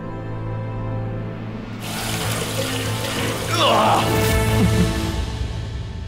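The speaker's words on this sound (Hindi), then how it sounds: "खौलता हुआ पानी डालो" Boiling water splashes and pours steadily close by in a fairly loud, continuous gush that swells toward the end, over a low background hum.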